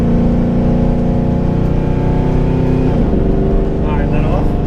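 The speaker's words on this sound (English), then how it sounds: "Go down to like 4th gear manually. And just give her a slow acceleration." Engine of a 2013 Camaro ZL1, about 700 horsepower, pulling slowly in 4th gear with a loud, steady, deep drone, while voices are heard close by.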